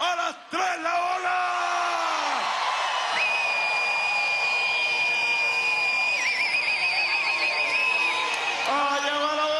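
A large outdoor crowd at a political campaign rally on a Caracas avenue shouts and cheers loudly and continuously while doing the wave, a dense roar of many voices with whistle-like tones rising over it.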